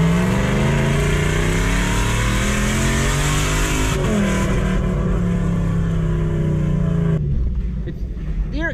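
A Toyota 1UZ-FE VVTi V8 swapped into a Mitsubishi Delica L400 4x4 van, running with the exhaust off and a shortened air intake, roars loudly and steadily, its pitch shifting as it revs before settling near the end.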